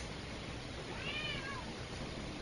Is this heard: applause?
no